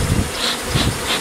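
Bees buzz at the entrance of a new hive after a cutout from a possum box, a close, loud, pulsing hum with brief swells.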